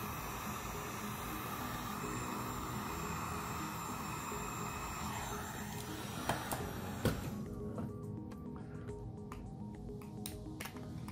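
A heat gun running on its low setting during disassembly of a Microsoft Surface Book keyboard gives a steady, broad airy roar that holds throughout, with a couple of light taps near the end.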